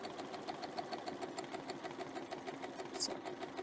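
A domestic sewing machine stitches steadily around a template shape, giving a continuous rapid mechanical hum with fine rhythmic pulsing that stays even throughout, close by and heard alone.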